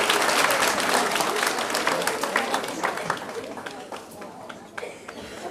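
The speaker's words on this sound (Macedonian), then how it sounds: "ќе стаса и заслужен аплауз за трудот што го вложија" Audience applause at a cooking and table-decoration competition in Kočani, a dense wash of clapping that fades gradually over several seconds, with cheering and chatter mixed in.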